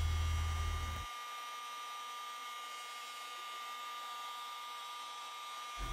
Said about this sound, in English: We have the polisher between the third and the fourth speed setting.